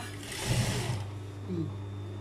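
A sewing machine stitching a tailored collar onto a casual suit jacket, a steady hum with a louder burst of stitching near the start and someone speaking over it.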